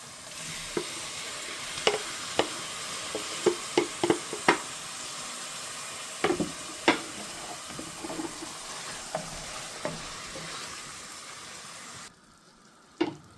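Tomatoes sizzle in a frying pan for cabbage rice while a utensil scrapes and stirs, irregular clinks over a steady soft hiss, fairly faint and without talk.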